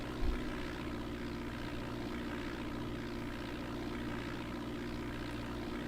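Steady, droning propeller engine of a Beechcraft Bonanza in the Flight Simulator 4 game, a constant low hum with a faint click at the start and no talking.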